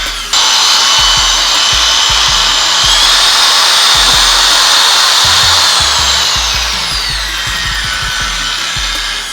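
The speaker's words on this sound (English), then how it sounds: "It's a very smooth dual action polisher." A 600-watt dual action car polisher with speed control, rated up to 800 watts, runs in a steady loud whirring whine that shifts pitch partway through as the speed changes, with no talking.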